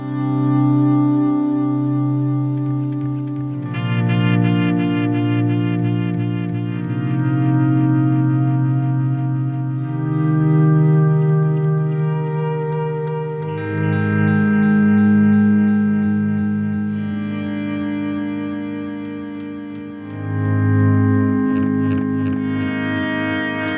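An electric guitar runs through an effects unit with chorus, echo and slight distortion, ringing out shimmering chords that swell in and out in slow waves, loud and without any talking.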